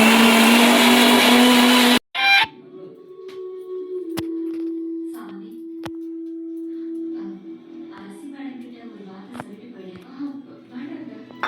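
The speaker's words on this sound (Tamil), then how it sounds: "மருதாணி எல்லாம் எதுக்குமா அரைக்கிறீங்க?" A mixer grinder grinds henna leaves with a loud, dense whir for about two seconds, then cuts off abruptly. Conversation follows over a low steady hum.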